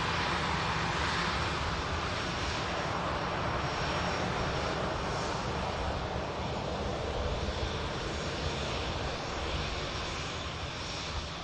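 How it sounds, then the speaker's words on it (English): Boeing Dreamliner jet departing Manchester Airport for Paphos, a loud, steady engine roar sustained throughout without letup, broadband and close, no voices. "we're just going to capture the Dreamliner, heading to Paphos"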